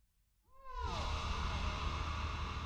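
Omnisphere 2 Wail of Time, a sparse ambient synth effect, rises from near silence into a swelling, wailing tone with sliding pitches that settles into a dense, sustained wash.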